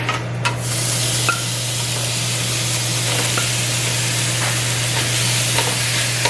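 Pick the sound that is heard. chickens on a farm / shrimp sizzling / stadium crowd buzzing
shrimp sizzling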